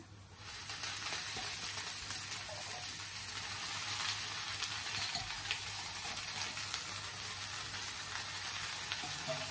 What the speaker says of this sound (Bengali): এখন এই যে দিয়ে দিলাম শাক, এই যে লাল শাকটি রান্না করি